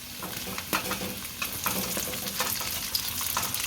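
Onions and spices frying and being stirred in a pan for veg Hakka noodles, a steady close sizzle broken by repeated scraping clinks of a spoon against the metal, with no voices.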